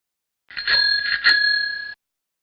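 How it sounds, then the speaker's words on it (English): Bright metallic foot bells jingle during a dance in a burst of about a second and a half, shimmering and close, with a couple of rhythmic shakes and no talking. "Dance with foot bells."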